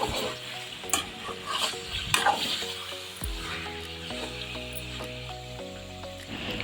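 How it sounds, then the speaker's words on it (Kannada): Onions fry in oil for palak chicken gravy, crackling steadily while a spoon stirs with several clattering scrapes early on, then a calmer sizzle with a faint hum beneath, no speech. "ಅಲ್ಲಿವರೆಗೂ ಇದನ್ನು ಚೆನ್ನಾಗಿ ಎಣ್ಣೆಯಲ್ಲಿ ಫ್ರೈ ಮಾಡ್ಕೊಳ್ಳೋಣ"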